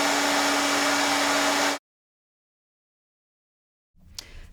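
A JML Aero 360 Steam Pro clothes dryer runs with a loud, steady broadband whir and a faint hum, then cuts off abruptly after about two seconds. Near-silence follows, before a brief clatter near the end.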